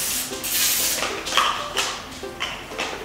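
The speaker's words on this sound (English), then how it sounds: "take some like nonstick cooking spray and then lightly spray it" Nonstick cooking spray lightly misted into a muffin pan for blueberry muffins, several short hissy bursts with soft taps and handling noises in between, close up.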